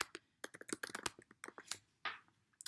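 Quick, irregular keystrokes tap out a search on a computer keyboard, faint and close, with brief pauses between bursts and no voices.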